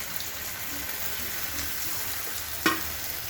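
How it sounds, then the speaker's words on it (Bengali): Hilsa fish frying in a pan with a steady close sizzle of hot oil, plus one short sharp crackle or clatter near the end, with no voices. "এখন আমি মাছগুলো দিয়ে দেবো।"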